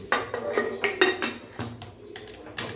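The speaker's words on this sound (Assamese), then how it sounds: "এতিয়া ভালকৈ লৰাই লৈ মই ইয়াত ঢাকনখন লগাই দিম" Metal utensils clank and scrape as matar paneer curry is stirred in a pressure cooker and the lid is set in place: a series of sharp, close, irregular metallic knocks with no talking.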